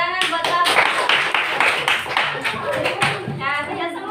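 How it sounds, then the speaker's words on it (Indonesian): Pupils clap in a classroom during a science lesson, a lively burst of fairly close hand claps with some sharper individual strikes, a voice speaking over part of it. "Tepuk tangan buat kamu."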